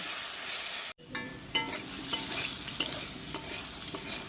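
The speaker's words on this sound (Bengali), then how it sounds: "নেড়ে চেড়ে আলুগুলো লাল লাল করে ভেজে নেব" Cut, washed and salted potatoes are stirred and fried in hot oil in a home kitchen, giving a steady close sizzle broken by an early pause and repeated scraping strokes of the spoon.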